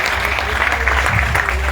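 Applause from the audience at a teachers' assembly and dialogue session in Texcoco, Mexico, a brief burst of dense, steady clapping from a crowd.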